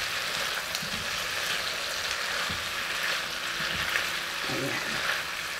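Spam and tofu fry in a hot pan, giving a steady, close hiss of sizzling oil with a few soft stirring knocks underneath.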